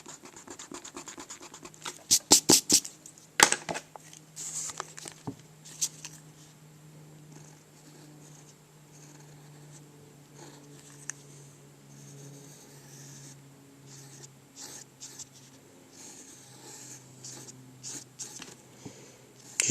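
An eraser scrubs on drawing paper in quick bursts of close, scratchy rubbing early on, then fainter intermittent strokes over a quiet background hum.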